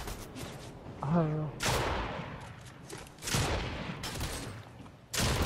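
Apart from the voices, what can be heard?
bots shooting guns in Fortnite video game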